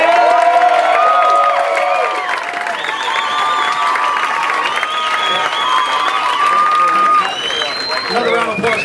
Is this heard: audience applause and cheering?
yes